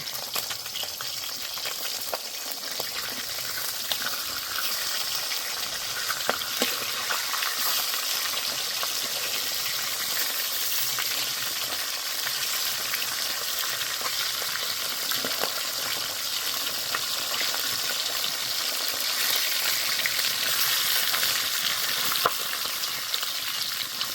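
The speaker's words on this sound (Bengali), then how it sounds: "এক পাশ ভালো করে ভাজা হয়ে গেছে, এবার মাছের মাথাগুলো উল্টে দেব।" Rohu fish heads fry in hot oil in a pan, giving a loud, continuous sizzle and crackle with occasional scraping as they are turned, and no talking.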